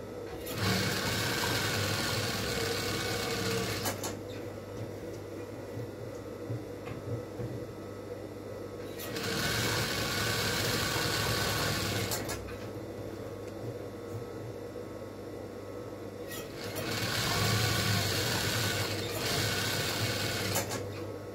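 A sewing machine stitches the lining of a caftan in three loud, steady, close bursts of whirring, separated by quieter pauses where the machine stops.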